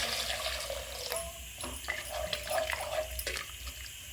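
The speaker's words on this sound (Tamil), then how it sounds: "1க்கு 2 கப்பு தண்ணி வச்சுருக்கேன், இதில் ஊற்றுறேன்" Two cups of water pour and splash steadily into a pot for vegetable pulao, fairly quiet, with a few faint clinks along the way.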